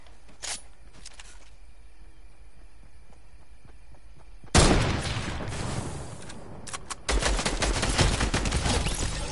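Pistol fire in a video game, a loud burst of rapid shots erupting midway after a quiet stretch, then another sustained volley of repeated cracks near the end.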